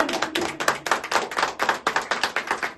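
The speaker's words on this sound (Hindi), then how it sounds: "जोर से ताली एक बार फिर से" A congregation at a prayer meeting claps together, a dense run of hand claps in a quick, steady rhythm that sounds close and fairly loud, with no talking over it.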